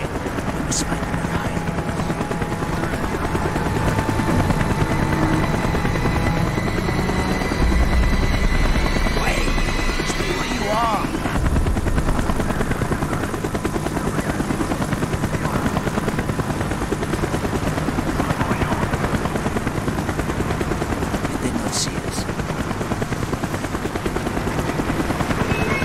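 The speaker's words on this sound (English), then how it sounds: "The chopper is coming around again." A helicopter circling in the Call of Duty: Black Ops video game gives a loud, steady rotor drone that runs the whole stretch alongside game effects and voices.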